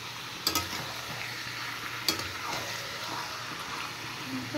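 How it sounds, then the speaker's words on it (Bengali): Meat frying in a pan, stirred with a spatula: a steady close sizzle with two sharp scraping clinks and softer stirring movements, and no voices. "এবার মাংসটা একটু কষিয়ে"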